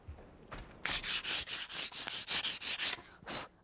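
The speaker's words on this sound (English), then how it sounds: "I've just got some 320 sandpaper, and I'm taking those little bumps down so it gets very fine" Fine 320-grit sandpaper works over clear-coated wood in about ten quick, even back-and-forth rubbing strokes, close and crisp, with no voices.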